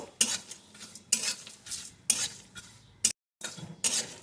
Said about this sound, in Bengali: এখন আমি এর ভিতরে এক চামচ পোস্ত দিয়ে দেবো পোস্তটাকেও একটু ভেজে নেব